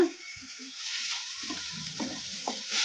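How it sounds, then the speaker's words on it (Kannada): Chopped onion sizzling in hot oil in a pan, a steady bright hiss with soft scraping stir strokes at intervals, close and moderately loud, no voices. "ಈಗ ಎರಡು ನಿಮಿಷ ಆಗಿದೆ ಎಣ್ಣೆ ಕೂಡ ಬಿಸಿ ಆಗಿದೆ ಈಗ ಇದಕ್ಕೆ ಈಗ ಉಳ್ಳಾಗಡ್ಡಿ ಹಾಕೋಣ ಕಲಸ್ಕೊಂಬಿಡೋಣ"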